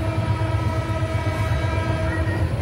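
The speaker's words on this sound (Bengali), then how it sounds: "ট্রেন ঢুকছে ঝাঝা স্টেশনে।" The Howrah–Haridwar Kumbh Express (12369) rolls into Jhajha station with a loud, continuous rumble of wheels and carriages, while a train horn holds a steady tone over the clatter.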